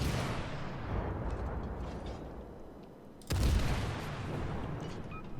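Naval guns firing in World of Warships, a long rumbling blast decaying under continuous low battle noise, then a second sharp, loud boom midway that rolls out.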